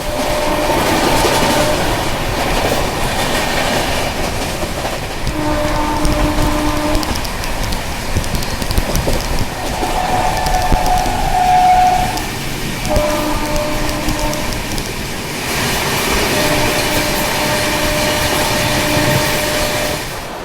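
Rajdhani Express running at high speed while overtaking the Mahakaushal Express, with a steady loud rumble and clatter of wheels on rails that continues throughout, and no talking.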